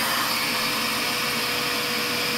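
A Henry HVR160 compact canister vacuum cleaner runs at a steady, loud whine with a broad, even hiss, unbroken for the whole stretch with no voices.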